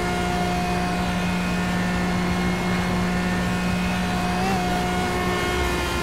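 A Pagani Zonda R race car engine in Project CARS holds a loud, steady high-revving drone during a night race, with one brief pitch wobble near the end and no talking.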